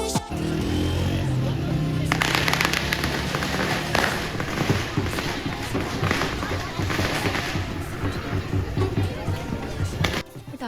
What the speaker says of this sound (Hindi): पटाखों की आवाज़ सुनते ही मैं फ़ौरन से बाहर निकली देखने के लिए